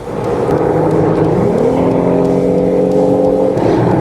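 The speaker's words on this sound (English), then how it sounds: "I do like the sound of that engine." Engine of a 2022 Jeep Rubicon 4x4 while driving on-road, a steady loud drone with rising harmonic tones as it pulls and revs, continuous throughout with no talking.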